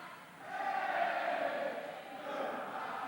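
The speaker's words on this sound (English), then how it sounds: "You hear the familiar West goodbye chant while Jimmy Delmar's going to the line." A high-school boys' basketball crowd in a gym chants the West goodbye chant in unison, a steady broad roar of many voices that swells and rises again near the end.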